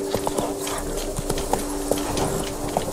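Roach the horse in The Witcher 3 gallops with a steady run of clip-clop hoofbeats, fairly close and clear over a low ambient game bed, with no talk over it.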